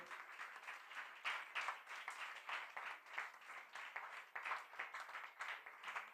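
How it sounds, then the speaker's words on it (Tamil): Steady applause from an audience filling the hall at a 97th birthday celebration for Sri Sathya Sai in Chennai, many hands clapping continuously with a dense, even texture. "எல்லாருக்கும் ஒரு பெரிய கைத்தட்டல் கொடுங்க அவங்களுக்கு"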